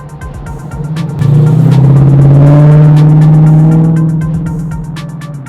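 A Chevrolet K5 truck drives along, its engine note rising into a loud, sustained drone of acceleration that holds steady and then slowly eases off, heard from inside the cab.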